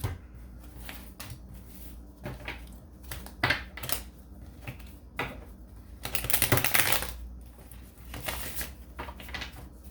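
Tarot cards being shuffled in quick bursts, with crisp riffling flutters and a longer rustling run near the end, close by with no talking.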